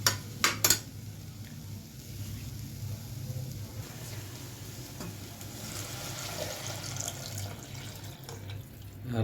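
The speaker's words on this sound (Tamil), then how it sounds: "அதனால் 1 லிட்டர் தண்ணி ஊற்ற போகிறேன்." About a litre of water is poured into a pot to make vegetable soup for four. It makes a soft, steady, fairly quiet stream, with a few brief clinks of the pot at the start.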